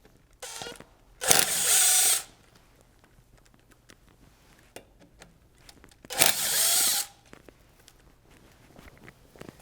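Two bursts from a power tool backing out the screws that hold a brake disc to the hub, each about a second long, loud and close, with quiet workshop pauses between them during a 4-pot tuning brake install.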